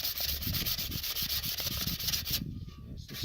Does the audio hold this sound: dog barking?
no